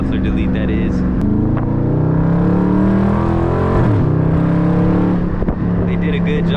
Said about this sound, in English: that's just a stock exhaust with nothing but a muffler delete